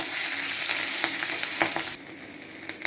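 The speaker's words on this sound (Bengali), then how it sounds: "জিরাটা ভাজা হয়ে গেছে, এখন দিয়ে দিচ্ছি কাঁচা লঙ্কা, চেরা কাঁচা লঙ্কা।" Slit green chillies and cumin seeds sizzle in mustard oil, a dense close frying hiss with small crackling pops that drops to a quieter sizzle partway through.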